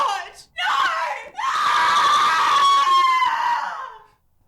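A person screams: two short shrieks, then one long, loud, sustained scream that wavers slightly before cutting off into silence.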